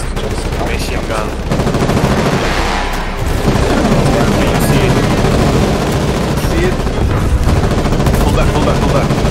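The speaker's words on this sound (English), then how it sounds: "Machine gun." Sustained machine gun fire in the Foxhole war game, a dense continuous crackle of bursts and booms filling the whole stretch, loud and close, with faint voices mixed underneath.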